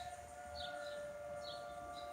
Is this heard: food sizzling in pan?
no